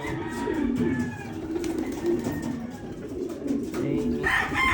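Domestic pigeons coo in a low, repeated throb close by, with other birds chirping faintly over a steady background hum.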